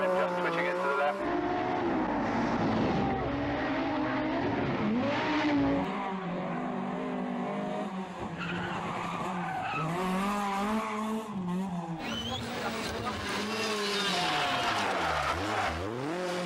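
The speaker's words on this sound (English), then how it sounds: "getting on the grass as he sets the car up into that hairpin underneath the spectator there" A Group B rally car skids and slides into a hairpin on a rally stage, engine revving hard with tires scrubbing on grass and gravel, loud and close, while a voice talks over the action throughout.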